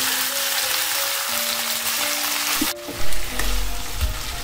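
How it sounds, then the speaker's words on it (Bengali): Cauliflower pieces fry in oil in a Bengali kitchen, a loud continuous sizzle with a sharp burst of crackling partway through as the pan is stirred or disturbed. "ফুলকপির টুকরোগুলোকে আমি তেলের সঙ্গে একটু ভেজে নেব"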